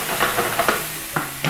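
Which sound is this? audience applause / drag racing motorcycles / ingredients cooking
ingredients cooking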